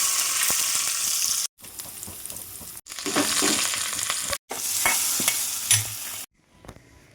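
Coconut pieces fry in hot oil after mustard seeds have popped, for a jackfruit seed masala curry, with a loud, steady sizzle broken by a few short pauses and the scrape of stirring.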